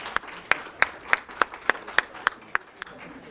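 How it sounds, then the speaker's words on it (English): Applause for Commissioner Gahan at a county Commission for Women meeting comes through as about ten sharp, evenly spaced claps in a steady rhythm, close and distinct over a quiet room. "Can we have a round of applause for Commissioner Gahan?"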